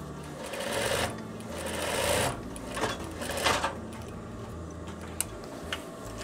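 A sewing machine runs in bursts, sewing double topstitched seams on veterinary coveralls, with longer runs early on and short stitching spurts and clicks later, close and alone.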